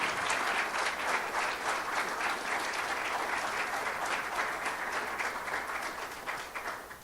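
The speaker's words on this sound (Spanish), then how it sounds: "Dale un aplauso al Rey de Reyes y Señor de Señores." A church congregation at a Spanish-language service claps together in praise, a full, continuous burst of applause that holds strong before thinning slightly toward the end.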